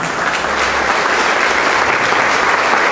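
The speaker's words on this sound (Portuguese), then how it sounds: "a qual eu peço uma salva de palmas" An audience at a launch ceremony applauds steadily, a dense, loud wash of clapping that holds evenly from start to finish without any talk.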